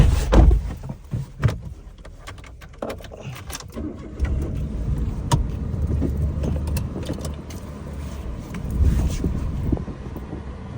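Close thumps and rattles of doors and movement at the start, then a steady low rumble of a car cabin with wind noise.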